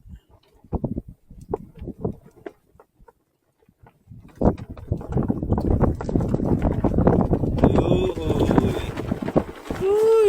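Outdoor wind gusts rush and buffet the microphone in a steady broadband roar during a fishing outing, with speech and movement noises underneath.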